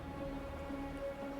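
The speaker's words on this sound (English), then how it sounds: "But the rain's getting heavier." Steady rain hisses over the Wuthering Waves game scene, with a soft, sustained tonal drone running underneath and no speech.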